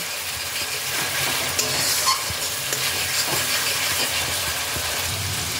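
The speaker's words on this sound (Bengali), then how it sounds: "টমেটো পেস্টটাকেও মশলার সাথে 2-3 মিনিট ফ্রাই করে নিতে হবে।" Tomato paste frying with spices in a pan: a steady, dense sizzle with faint stirring noises that goes on without a break.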